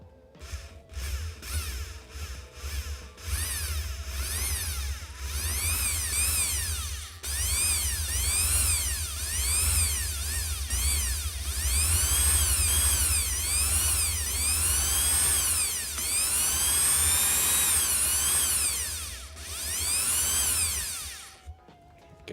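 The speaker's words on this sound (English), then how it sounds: "let's try and drill" A power drill bores a hole, starting with a few short bursts, then running steadily with rising and falling whine as the bit works through, loud and close, ending abruptly.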